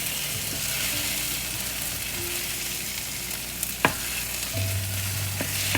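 Eggs scrambled in a one-pan breakfast skillet with melting cheese over medium heat: a steady close sizzle and frying hiss with a few sharp scrapes and clicks of a utensil pushing the mixture around, no talking.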